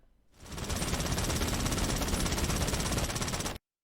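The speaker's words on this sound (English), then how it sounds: "I decided to shoot 30 rounds from all three weapons" Rapid sustained automatic fire from GTA Online SMGs and a machine pistol in the video game, a steady loud burst of evenly spaced shots that starts abruptly, runs about three seconds and cuts off cleanly.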